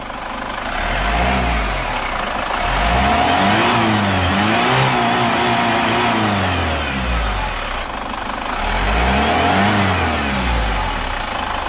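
A Chevrolet Captiva FL AWD diesel engine, serviced for hard starting, heavy pull and smoke, is revved repeatedly, rising and falling in several loud close swells above a steady diesel clatter.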